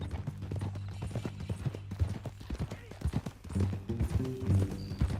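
Horse hooves clip-clop in the Red Dead Redemption 2 video game, an irregular run of close hoof strikes with game sounds and characters talking alongside.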